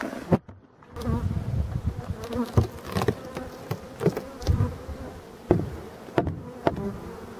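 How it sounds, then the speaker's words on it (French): Honeybees buzz around beehives during a summer chestnut and linden honey flow, a close, fluctuating swarm hum mixed with occasional light taps and knocks from hive handling. "je vais faire deux ruches qui sont juste à côté"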